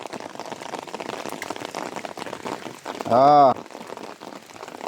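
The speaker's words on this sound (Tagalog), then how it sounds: "sa gitna ng malakas na ulan mga parikoy, mayroon tayong huli, dalawa" Steady heavy rain patters densely throughout while fishing, with a brief tonal hum rising over it near the end.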